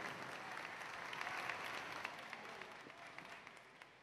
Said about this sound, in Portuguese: Merece todas as palmas